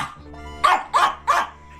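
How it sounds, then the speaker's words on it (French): A tiny Chihuahua barks three times in quick succession, sharp and close, each bark short and evenly spaced, with quiet room tone between them. "Le record de chiens miniatures appartient au fameux Chihuahua"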